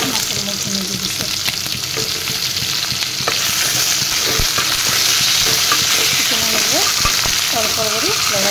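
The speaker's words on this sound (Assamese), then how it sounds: "ইয়াতে শুকান জলকীয়া দি দিছোঁ অলপ লৰাই লৈছোঁ তাৰপিছত মাছৰ মুখখিনি দি দিছোঁ" Dried chillies and fish heads stirred and frying in a hot pan for a jute-leaf fish curry, a steady close sizzle with scraping spatula strokes throughout and no talk.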